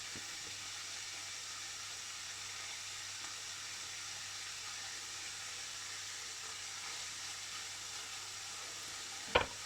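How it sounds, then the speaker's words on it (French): Small lardons fry in a pan with a soft, steady sizzle and hiss, quiet and even, ending with a single sharp clack. "Et on fait revenir ces petits lardons"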